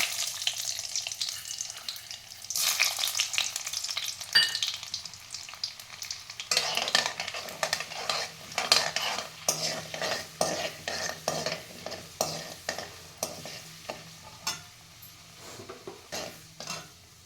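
Mustard seeds, cumin, urad dal and chana dal crackle and sizzle in hot oil for wheat rava upma, with a steady stream of popping and frequent stirring and pan scrapes, loud and close.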